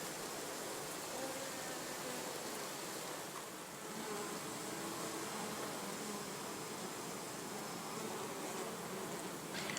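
Hornets hum steadily inside a beehive, a dense and continuous buzzing drone close by that stays even in loudness for about ten seconds, with no voices.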